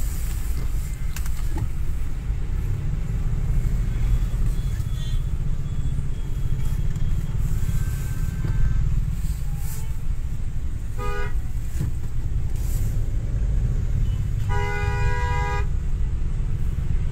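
Heavy traffic jam at Satwari Chowk in Jammu: a constant loud roar of engines, with short car horn toots near the start and a longer, clearer honk toward the end.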